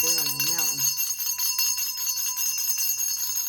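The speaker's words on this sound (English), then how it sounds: "ring the bell on that" A bell rung once, a clear ringing tone with a sustained, slowly fading shimmer that lingers through the clip while a voice speaks faintly underneath.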